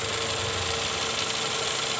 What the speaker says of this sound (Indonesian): Cuman ini masih ada bunyi sedikit nih, itu dari kompresor nih, saat magnetnya muter dia bunyi kasar.